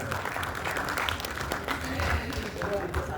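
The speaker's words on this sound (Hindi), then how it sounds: "मैं ताली बजवा दूँ।" Audience applause at a Hindi literary society's foundation-day gathering, steady broadband clapping filling the clip with voices mixed in underneath.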